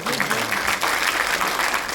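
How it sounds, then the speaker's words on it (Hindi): Crowd at a poetry gathering (kavi sammelan and mushaira) clapping loudly, a dense continuous rush of hands with some voices mixed in. "मैं चाहता हूँ जोरदार तालियों के साथ इस्तकबाल"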